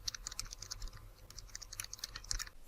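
Fast, steady typing on a computer keyboard while a biodata form is filled in, giving a quiet run of crisp key clicks with brief pauses and no talk.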